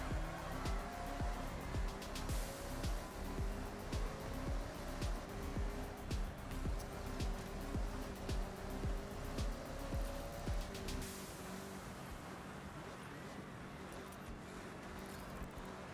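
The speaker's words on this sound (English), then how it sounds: "my first time driving this car since I bought it. It's the Integra." Integra car engine in the Forza Motorsport 6 racing game, a steady droning motor with rising and falling rev tones that drops to a quieter hum near the end.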